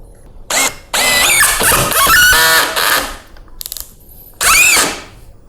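A Doliz BD637 20V cordless brushless drill drives a 7.5 cm screw into a board without countersinking. It whirs loudly and up close in four short bursts, rising and falling as the screw bites, with brief pauses between them.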